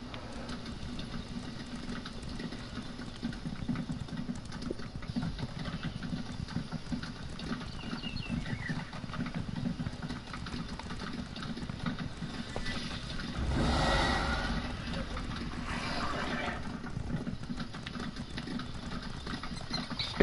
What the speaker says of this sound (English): You might want to get on your horse. It's going to be a long ride.